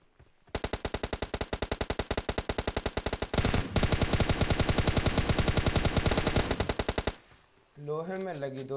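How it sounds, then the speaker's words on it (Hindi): Rapid automatic gunfire in PUBG Mobile rattles in long, loud bursts for several seconds, then stops and a voice begins talking. "लोहे में लगी दो तीन गोलियां मेरी"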